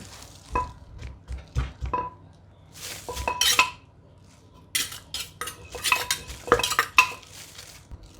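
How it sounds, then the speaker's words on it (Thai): Dried shrimp, chilli and garlic pounded in a mortar for a Thai fruit salad, giving irregular sharp knocks and clinks in short bursts, close and fairly loud, with no talking. "เรามาโคลกกุ้งแห้งกันก่อนนะคะ 1 ช้อนโต๊ะ แล้วก็พริกกระเทียม"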